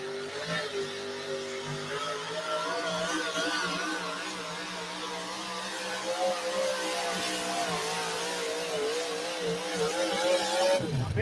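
Racing trucks roar at full throttle in the distance, the pitch climbing and dipping as they pass, fairly faint and continuous.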